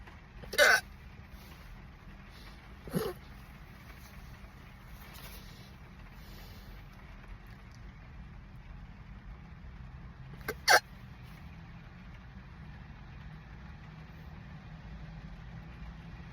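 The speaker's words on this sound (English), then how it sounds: "Do you prefer loud or quiet hiccups?" Loud, sharp hiccups from a person, three sudden bursts spaced several seconds apart over a quiet background with a faint low hum.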